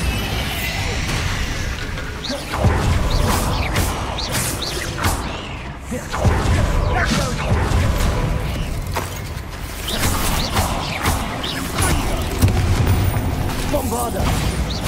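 Bombarda spell explosions from Hogwarts Legacy gameplay, with repeated booming blasts and crashing bursts over a dense, loud game soundscape, while a voice keeps talking over the action.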